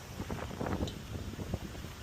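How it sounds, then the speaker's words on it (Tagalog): Strong wind buffets the microphone while kayak fishing from a Hobie Compass, a steady rough roar with gusty swells and no voices. "Lakas talaga na hangin, sabi din naman ng forecast."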